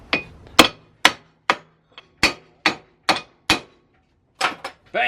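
Hammer smacking a Condor bushing into an aluminum sleeve on a BMW E46, about a dozen sharp, loud metallic blows in an uneven rhythm with brief silences between them, close and isolated with no talking.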